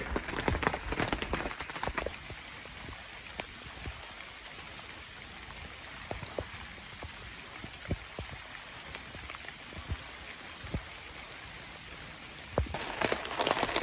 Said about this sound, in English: I'm getting thunder now and it's still raining